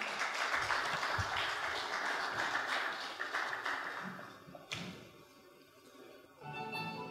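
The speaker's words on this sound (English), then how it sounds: "let's give a round of applause" An audience claps at an Indian Arrival Day celebration held at a temple, a steady wash of applause lasting several seconds, thinning briefly near the end before swelling again.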